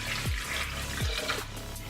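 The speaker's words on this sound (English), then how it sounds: "And then I just add a little bit of water" Water poured into a glass of homemade lemon juice drink, two short gurgling pours of liquid landing close by over a steady running-water wash, with no talking.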